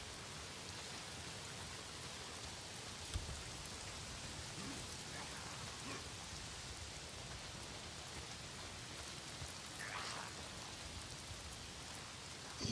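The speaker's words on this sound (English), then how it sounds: "If it's not the freaks, it's the goddamn rain. Why is it always raining?" Steady rainfall in the video game Days Gone: a dense, even hiss of rain on surfaces that lasts throughout, with a few soft thumps and no speech.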